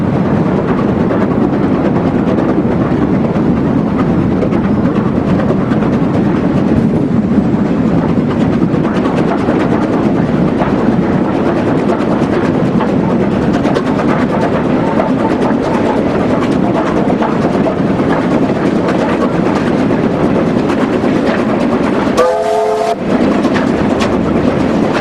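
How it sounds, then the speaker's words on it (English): A single QJ steam locomotive crossing the Darakhiga Viaduct, a loud continuous rumble of wheels and train noise with a brief whistle-like tone near the end. "A single QJ crossing Darakhiga Viaduct."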